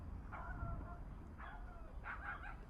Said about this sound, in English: You hear the dog in the background.